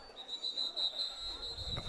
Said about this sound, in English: We got another whistle and another flag.